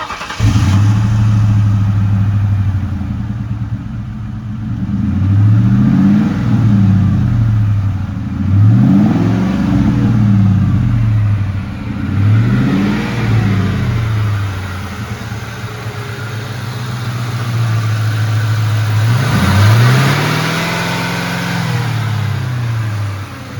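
A 2003 Ford Mustang GT engine idles with a low steady rumble, then revs up and back down several times in smooth rising-and-falling sweeps, loud and close with no talking.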